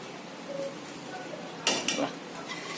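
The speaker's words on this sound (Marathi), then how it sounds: "यावर असं झाकून ठेवायचं" A lid set over a pot of freshly cooked jeera rice in a home kitchen, one short metallic clatter in the middle against a quiet background.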